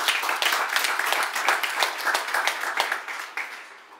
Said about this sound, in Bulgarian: Моля да посрещнем с аплодисменти Мариана Куцурски, генерален директор на фирма Прецизион